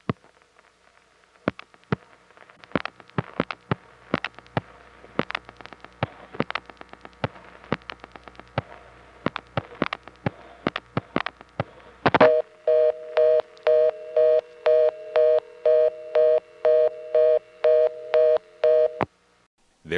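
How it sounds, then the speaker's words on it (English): A 1976 payphone switch returns a reorder tone: after a run of sharp clicks and brief pulses, a loud, fast on-off beeping tone repeats steadily near the end, with no voices. "resulted in the switch connecting us to a local reorder like this"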